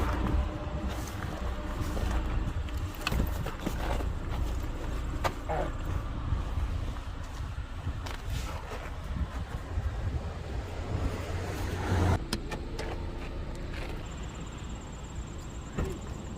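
A car pulls away outdoors, its steady engine and road noise carrying on under wind with faint voices, then fading and thinning out toward the end.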